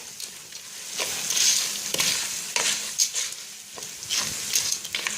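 Spices and thyme fry in a pan with a steady hiss and sizzle, interrupted by scraping stir strokes every second or so, heard up close without talk.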